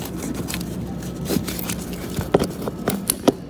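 Small flat screwdriver prying a trim panel in a BMW M5 E39 cabin, soft scraping and a few sharp clicks and snaps in the last second and a half, close and fairly quiet.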